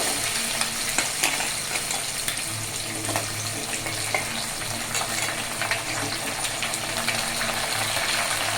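Onion, green chilli, tomato and ginger frying in a pan for semiya upma, a loud continuous close sizzle with scattered ticks and scrapes of stirring throughout, with no talk.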